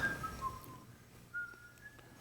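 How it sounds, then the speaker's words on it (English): Faint, soft whistling of a few wavering notes, somewhat distant, over a low background hum. "I'm just back here whistling for no good reason."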